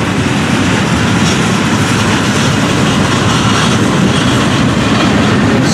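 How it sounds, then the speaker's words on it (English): Loud, dense rumbling and grinding of a double-stack freight train slowing past as brake shoes grab the wheels, metal scraping, a continuous heavy roar without pauses. "You can hear brake shoes grabbing in."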